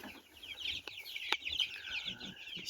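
Incubator-hatched chicks chirp in a quick, high-pitched scatter of peeps, fairly close and moderately soft, with small rustling sounds beneath.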